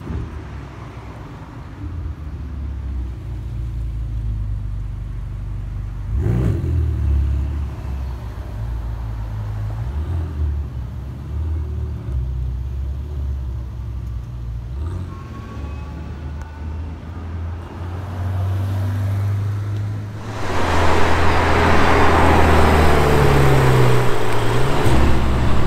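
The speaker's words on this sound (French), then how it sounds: "Je vais te mettre rapidement quelques vidéos de 488 Pista que j'ai pu croiser dans Monaco." Ferrari 488 Pista supercars driving through Monaco streets, a loud engine drone that swells and passes several times, with a sharp rising roar near the end over street ambience.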